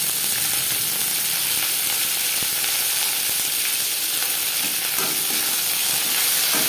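Bottle gourd stalks fry with garlic and chilli for a Bengali lau shak dish: a loud, continuous close sizzle with constant stirring and scraping throughout.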